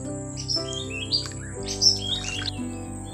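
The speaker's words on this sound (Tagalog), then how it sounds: "Ang ganda ng huni ng mga ibon." Birds chirp and tweet near muddy water, several short high calls scattered over a few seconds against a steady low hum, fairly close and clear.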